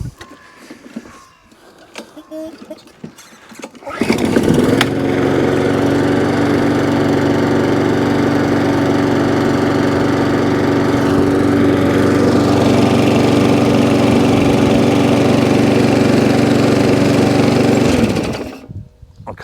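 A scrap lawn mower engine fitted with an NGK spark plug starts after some brief clattering and runs loudly and steadily nearby, with no talk, then cuts out near the end.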